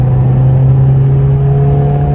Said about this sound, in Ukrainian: І чути, от якраз то, про що ми говорили, що після 5 тисяч двигун працює інакше